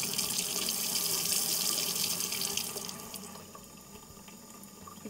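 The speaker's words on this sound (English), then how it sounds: "we're going to run some water. You don't want it running fast." Tap water running in a slow, steady stream into a sink to rinse sprouting mung beans, a continuous close hiss and trickle that eases a little softer toward the end.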